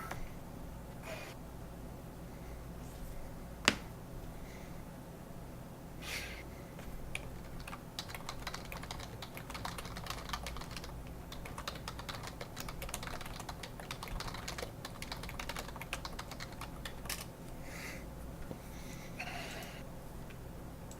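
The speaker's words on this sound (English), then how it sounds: "Sorry about the typing." Continuous typing on a computer keyboard for about twenty seconds, a steady patter of quick clicks at moderate distance with one louder single knock early on, no talk over it.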